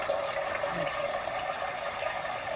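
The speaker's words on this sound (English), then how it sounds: "What my mom taught me is you add water to it" Water pours steadily into a rice cooker pot of rice, a continuous, fairly loud rushing splash with no talk over it.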